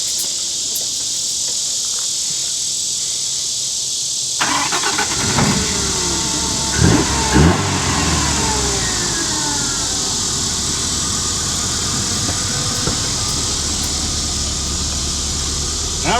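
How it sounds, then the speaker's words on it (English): A Nissan Pulsar engine cranks and catches after a transmission swap, then settles into a steady idle up close, with insects chirping in the background throughout. "let's see if it starts."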